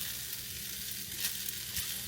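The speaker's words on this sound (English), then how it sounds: "We'll give it a little bit more of a stir." Teriyaki chicken fried rice sizzles steadily in a hot pan, with occasional scraping stirs over the continuous frying hiss; close and fairly loud, no voices.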